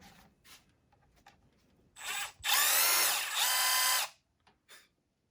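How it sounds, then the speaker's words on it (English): A deburring tool deburrs a copper tube end for a mini split flare, giving a close scraping whir in two bursts of about a second each, after a few soft clicks and handling noises. "I'm gonna go ahead and deburr this one here."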